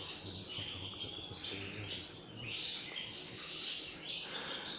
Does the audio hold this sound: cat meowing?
no